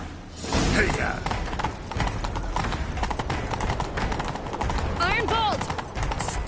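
Horse hooves gallop in The Witcher 3, a rapid, steady clip-clop that runs throughout. Game music and voices play over it, and a whooshing effect sweeps past near the end.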